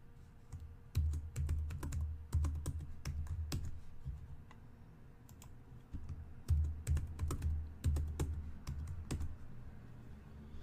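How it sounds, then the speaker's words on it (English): Password keystrokes on a computer keyboard during a CentOS Linux install, bursts of quick close clicks separated by short pauses, with no voices. "Okay, I've typed in the password."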